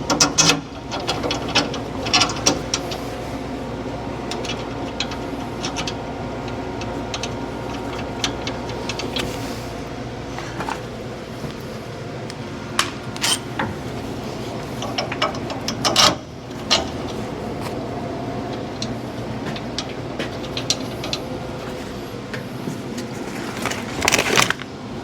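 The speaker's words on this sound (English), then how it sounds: "So we're going to install our little clip bolts." Clip bolts being tightened on a broken leaf spring of a 2005-2021 Nissan Frontier during a repair, with a continuous close mechanical ratcheting and clicking that carries on steadily, with occasional louder clanks.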